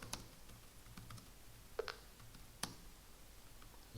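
Typing on a Lenovo ThinkPad Yoga 260 keyboard with a German layout gives soft, irregular key clicks, close and quiet, with a couple of sharper taps standing out.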